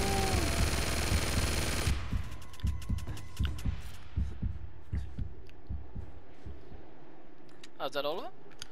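A minigun-style chain gun firing in an Uncharted video game, a steady rhythmic stream of thudding shots after a loud opening blast, with a voice heard alongside.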